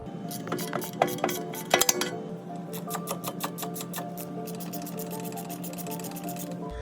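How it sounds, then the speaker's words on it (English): Metallic ratcheting and clicking from a wrench working hub bolts loose on the front hub of a Subaru WRX, in quick rapid bursts with a few sharper clanks near the start, close to the microphone. "so I got all 4 of those hub bolts off, so now I'm just going to try to pull this hub right off"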